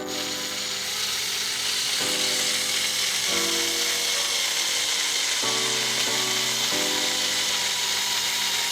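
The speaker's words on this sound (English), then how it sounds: "So now I'm gonna go ahead and drill." A power drill whines steadily while drilling screw holes in a Subaru BRZ body for a widebody kit install, loud and close, its pitch stepping down and up as the load changes, with no talking.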